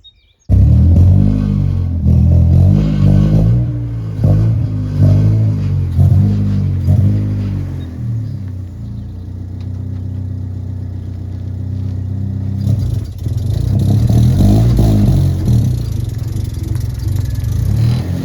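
A Honda Civic fitted with a heavy clutch idles and revs roughly as it backs out, the loud mid-pitched engine rising and falling in uneven pulses, then settling into a steady drone before revving harder again near the end.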